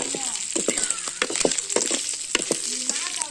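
Dried fish frying until crisp in hot oil, a steady close sizzle with repeated scraping stir strokes through the pan.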